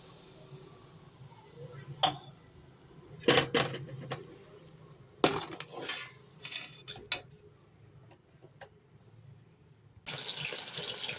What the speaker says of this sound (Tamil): தண்ணி 1 டம்ளர் ஊற்றிக்கலாம்.